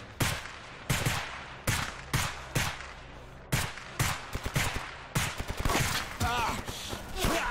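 Gunfire in the shooter game STALKER Anomaly: a series of sharp, loud single shots spaced about a second apart, then tighter bursts of rapid fire near the end.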